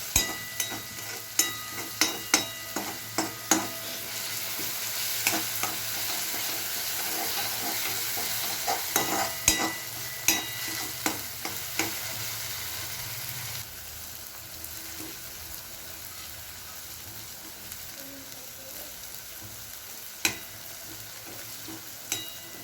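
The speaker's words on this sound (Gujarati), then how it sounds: "થોડી વાર તેને સાતળીશું, આપણા મસાલા જેથી સરસ રીતે કૂક થઈ જાય" Onions and spices sauté in a pan for a Gujarati potato curry, with a quiet sizzle broken by a quick run of spoon scrapes and taps at the start and scattered clinks later.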